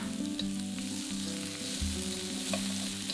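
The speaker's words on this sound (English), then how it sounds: "Then add in a sliced yellow pepper and cook for a minute." Sliced onion and yellow pepper frying in oil in a wok, a close, continuous sizzle with crackles and a stirring scrape partway through.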